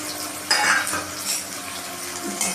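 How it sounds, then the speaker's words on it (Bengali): Garlic and onions drop into hot oil already spiced with garam masala and cumin seeds, giving a near, lively sizzle broken by clinks and stirring scrapes in a pan, with no talking. "এবার আমাদের রসুন আর পেঁয়াজগুলো আমরা এক এক করে দিয়ে দিচ্ছি।"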